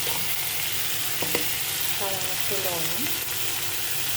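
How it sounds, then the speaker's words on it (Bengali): Ginger and spices sauté in a pan for a tangy fish curry, giving off a steady, close, even sizzle with light stirring scrapes throughout. "অল্প একটু আদা দিয়ে ভালো করে আবার কষাবো"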